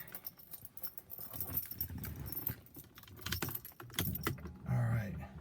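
Car keys jangle close by as a key goes into the ignition of a 1989 Bentley Turbo R limousine with a 6.75-litre engine, a run of metallic clinks and rattles ending in a firmer click and rustle.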